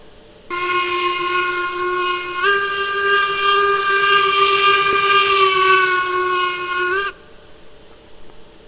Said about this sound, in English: Nice sounding whistle.